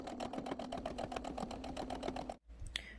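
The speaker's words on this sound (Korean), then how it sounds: "똑같이 상침으로 해서 연결해 놓겠습니다" Sewing machine topstitching a reversible bucket hat, a steady rapid needle rattle running close and continuous for over two seconds, then stopping abruptly with a faint click after.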